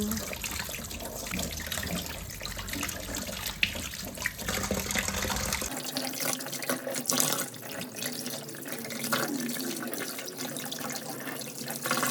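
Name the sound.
washing fish under running tap water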